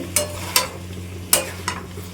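Spice paste and vegetables being sautéed in a pan with a little water added, heard as four sharp spatula scrapes at uneven intervals over a faint sizzle and a steady low hum, close and fairly quiet, with no talking.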